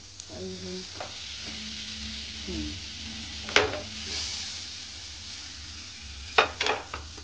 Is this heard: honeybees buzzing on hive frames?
no